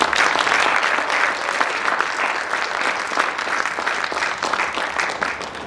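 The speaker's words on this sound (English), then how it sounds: "let's give a round of applause to all of our new inductees" An audience at a junior honor society induction ceremony applauds its new inductees, with steady, dense clapping sustained throughout at a constant level and no talk over it.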